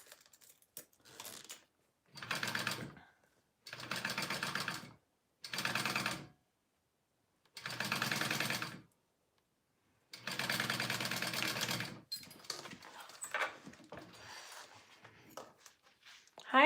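A sewing machine basting a zipper onto a front main bag panel, several short bursts of rapid stitching separated by pauses, close and clear, with quiet handling noises after.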